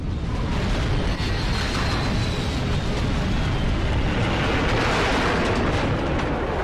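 A big explosion in the shooter game F.E.A.R. 2 sounds as a loud, sustained broadband roar that rumbles steadily for several seconds, dense and unbroken, with no talk over it.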